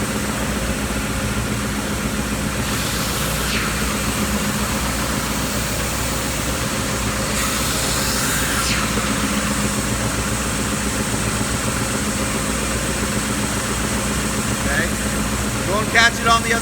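A wide-belt sanding machine runs with a steady mechanical hum and drone while a wooden end table panel is fed through, with a couple of brief scraping swells.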